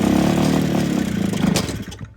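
A Hillman Imp five-bearing engine on Stromberg carburettors fires up with a rough, loud, pulsing run. It stumbles and fades away after about two seconds.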